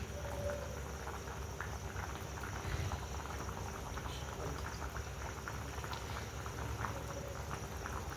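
Ridge gourd sambar simmers in a pot, giving a faint, continuous bubbling and gentle popping texture that stays even throughout, with no voices.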